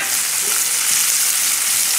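Smelts frying in hot oil in a pan make a steady, loud hiss of crackling sizzle that holds evenly for the whole stretch, with no talk over it.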